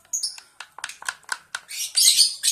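A one-month-old lovebird chick gives a series of close, sharp chirps in quick bursts that build into a louder, buzzy squawk near the end. The setting is hand-feeding.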